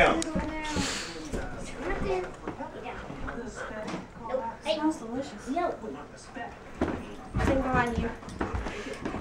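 A Great Pyrenees dog whimpers and gives excited yips and short barks in bursts. People talk over and between the dog's sounds.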